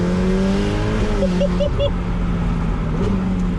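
A Ferrari 488 Pista Spider pulls hard, heard from inside as a loud, constant engine roar with rising gear tones and a brief shift, up close and dominating throughout.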